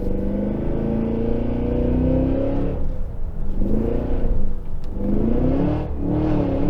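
A 2023 Cadillac Escalade V with its supercharged 6.2L V8 and AWD accelerates hard, a loud, continuous engine roar with rising and falling revs across several gear pulls, with no talk.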